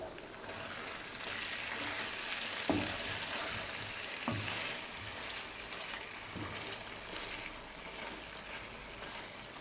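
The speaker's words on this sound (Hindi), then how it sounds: "एक बार मिक्स करेंगे।" A dish cooks in a pan over a low flame with a steady soft sizzle, while a few stirring knocks and scrapes stand out, quiet and close.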